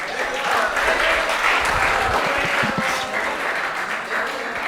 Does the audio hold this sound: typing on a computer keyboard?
no